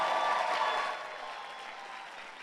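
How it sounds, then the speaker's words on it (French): A church congregation at a New Year's service applauds together in dense, sustained clapping that starts full and eases slightly in the last moments. "Acclamons le Seigneur."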